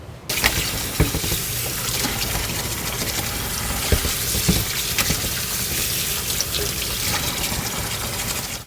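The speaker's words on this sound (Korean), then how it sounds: "이제 찬물에다가 헹구는 것만 남았어요. 헹굴게요." Cold tap water runs steadily over raw chicken thighs in a kitchen sink, a continuous close splashing gush with small spatters as the meat is rinsed, no talking.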